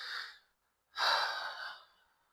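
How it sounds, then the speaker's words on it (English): Heavy mouth breathing close to the microphone while working on a small-block Chevy 305 engine: a short huff, a pause, then a longer, louder exhale that trails off, with no speech. "I know y'all can probably hear me huffing and puffing. I'm a heavy breather. I'm a mouth breather."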